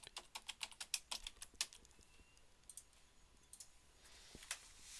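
Rapid clicks of typing on a computer keyboard come in a quick burst, then sparser keystrokes follow, close and quiet with no talking.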